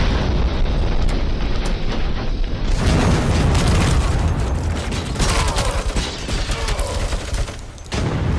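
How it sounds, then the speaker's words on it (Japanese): Explosions and heavy gunfire fill a battle in the RoboCop: Rogue City video game, with loud booms and dense rattling bursts running nearly continuously at close range. "ここ爆発するよ。"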